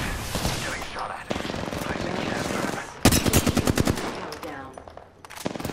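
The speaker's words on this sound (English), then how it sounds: "Getting shot at." Close, fast automatic gunfire in Apex Legends, with several rapid bursts of evenly spaced shots, the sharpest run in the middle, amid loud in-game noise and brief clatter.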